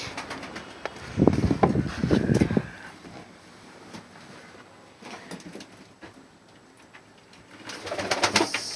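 Pigeons cooing in a coop, soft low throaty coos clustered near the start and again at the end, with rustling, wind and fluttering noise in between.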